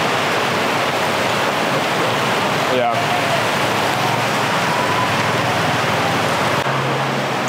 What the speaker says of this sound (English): we have now moved inside because it is absolutely pouring out